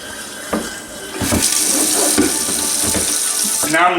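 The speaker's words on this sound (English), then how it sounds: "So what I'm gonna do is put a little water in here." Water is poured into a glass carboy fermenter, giving a steady, close splashing pour that runs throughout and rises into a hollow gurgle as the vessel fills near the end.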